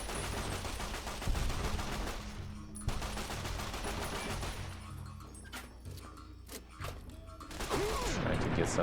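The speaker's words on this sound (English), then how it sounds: "Stop shooting." Gunfire in Fallout New Vegas, Old World Blues DLC, crackles in rapid bursts and scattered single shots, heavy at first, then thinning into sparse cracks before picking up again.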